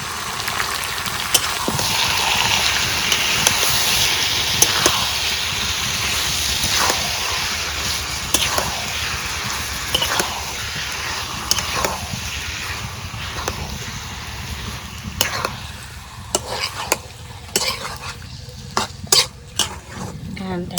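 Chicken curry tempering sizzles and fries in a pan while a spoon stirs and scrapes against the metal, with sharper clinks growing louder toward the end.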